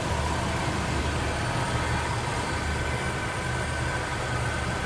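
A 2006 Jeep Wrangler TJ engine idles steadily with a tidy engine bay and aluminum radiator, a constant low rumble with a smooth mechanical hum, close by and uninterrupted for the whole stretch.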